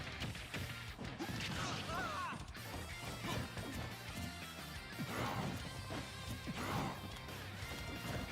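Repeated smash and whack hits from up smash attacks in a Super Smash Bros match, sharp impacts and whooshes scattered through busy game sound, with commentators talking over them.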